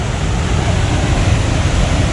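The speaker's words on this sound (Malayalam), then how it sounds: "ഇത് കിടിലം വെള്ളച്ചാട്ടം കേട്ടോ, പൊളി വെള്ളച്ചാട്ടം." Rushing water roars at Haritheerthakkara (Chooral) waterfall, a loud, dense, unbroken noise with a heavy low rumble throughout, close by and unaccompanied by voices.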